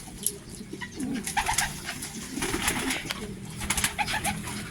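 An old breeding pigeon hen coos in repeated low, throaty phrases close by, with other pigeon sounds and light rustling around.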